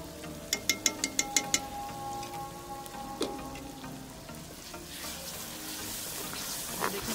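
Green chilli paste and yogurt hit hot oil while cooking Kashmiri chicken masala, giving a steady sizzle with a few sharp clinks of a spoon early on, then a continuous close frying hiss.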